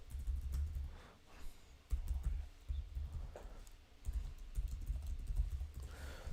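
A computer keyboard is typed on in clustered bursts of clicks, close and moderately loud, over a heavy low rumble of background noise.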